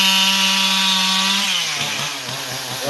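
A chainsaw whines steadily while cutting a tree during farm land clearing, its pitch dropping and sputtering as the cut finishes and the tree begins to go, loud and close with no talk.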